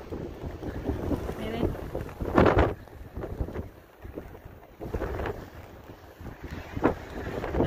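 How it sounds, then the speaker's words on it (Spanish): Sea waves washing against the shore by a beach pier, heavy surges rising and falling every few seconds under strong wind noise buffeting the microphone. "Miren cómo azota las olas"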